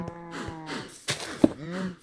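Cows in the game Minecraft low repeatedly in a pen, several close moos in quick succession with no talk.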